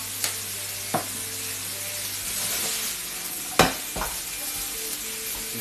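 King oyster mushrooms with pepper sizzle in a pan with a steady hiss, broken by a few sharp utensil clinks and scrapes as they are stirred, one knock louder than the rest.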